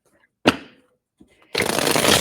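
Tarot cards are shuffled close up: a single sharp riffle snap, a brief pause with a faint tap, then a loud, continuous flutter of cards riffling together.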